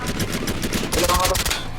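Gunfire in the video game Shattered Skies rattles in fast repeated bursts, steady and close, with a denser stretch midway while a player talks over it.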